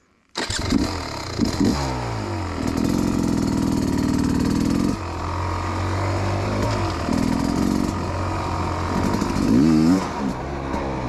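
A 2023 Beta Xtrainer 300 two-stroke dirt bike engine fires up and runs close by, with sharp revs rising and falling between steady droning stretches and a few crisp blips, no voices over it.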